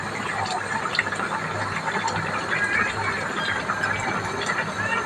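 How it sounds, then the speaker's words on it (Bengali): Chicken and pumpkin curry gravy boiling in a pot, a steady dense bubbling and gurgling that continues evenly throughout, fairly loud and close with no talking. "ঝোলটা টকবক করে ফুটতে শুরু করেছে"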